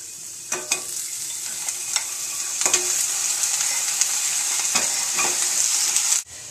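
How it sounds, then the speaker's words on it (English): Chicken cooks in a pan with a steady bright sizzle throughout, punctuated by several sharp clicks and scrapes of a utensil stirring, ending with a clatter. "So of course we have to cook the chicken"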